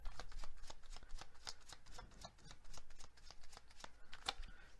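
Tarot cards being shuffled and drawn by hand, a rapid run of crisp riffling flicks and soft slaps that repeat in quick bursts at close range, with no voices.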